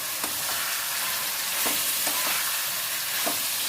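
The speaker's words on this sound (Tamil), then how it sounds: "இந்த மாதிரி நம்ம கிளறி கொடுத்துட்டே இருக்கும்போது எல்லா பக்கமுமே ஈவனாக நல்லா வதங்கிடும்" Ingredients being stirred and sautéed in a pan for a quick breakfast dish, with a steady frying sizzle and scraping stirs at irregular intervals, close and alone.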